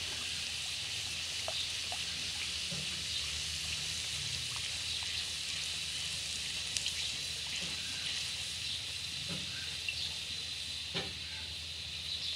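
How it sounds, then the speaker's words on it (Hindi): Potato-filled samosas fry in hot oil in a wok, a steady soft sizzle and hiss with faint bubbling throughout, no voices. "फिर यहाँ पर फ्राई करने हैं ऑयल के अंदर।"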